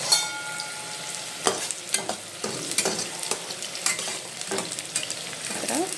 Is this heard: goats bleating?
no